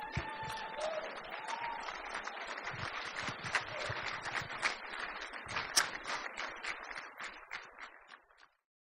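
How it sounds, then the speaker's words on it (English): Wedding reception guests clap after a toast, a sustained round of applause from a crowd indoors that stays fairly even for several seconds, then thins and stops abruptly. "Everyone, nice round of applause for Steph."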